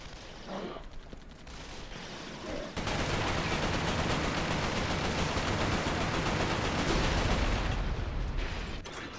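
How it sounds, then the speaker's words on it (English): Gunfire in Resistance: Fall of Man, a dense, continuous roar of rapid shots and blasts that surges loud after a few seconds and keeps pounding, with game sounds mixed in. "Oh, what the hell is shooting me?"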